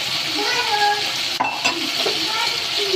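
Carrot and fried potato are stirred in a sizzling pan for chicken afritada, giving a close, steady frying hiss with scraping stirs and a sharp clink of a utensil against the pan partway through.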